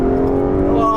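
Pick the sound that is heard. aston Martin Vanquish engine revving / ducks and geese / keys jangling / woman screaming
aston Martin Vanquish engine revving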